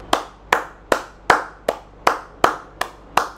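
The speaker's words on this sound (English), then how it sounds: "and people will still clap." People clapping in a slow, steady rhythm, about nine sharp claps spaced evenly, close and clear with nothing else over them.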